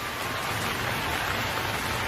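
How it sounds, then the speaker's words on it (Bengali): Cartoon rain sound effect on a rainy day, a dense, even hiss of falling rain with no pauses, steady and close throughout. "আজ এই বৃষ্টির দিনে আমরা খিচুড়ি খাবো"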